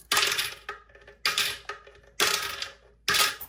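Coins drop into a piggy bank in four separate handfuls, each a bright, close jangling clatter that quickly fades before the next, with no talking.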